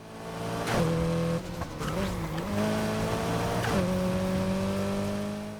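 A Mitsubishi Evo X engine in Need for Speed Heat roars loud and steady, rising and falling through gear shifts with tonal whine, with brief drops at each change before revving climbs again.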